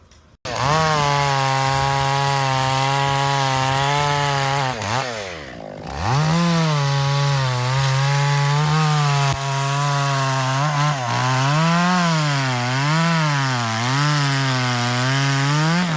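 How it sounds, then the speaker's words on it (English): Chainsaw cutting through a thick tree branch, a loud, sustained engine whine that dips and bogs under load midway, then recovers and wavers in pitch as the cut continues. "the worker cuts through the thick branch with steady hands. Sawdust falls as the saw hums,"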